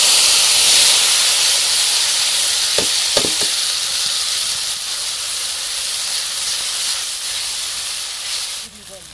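Masala with yellow mustard seeds frying in leftover mustard oil for a grass carp fish curry, a loud continuous hiss of steam and sizzle with a couple of faint knocks, close by, easing slightly near the end.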